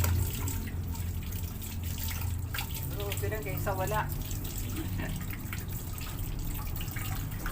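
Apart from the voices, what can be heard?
weak trickle of water from a tap while washing dishes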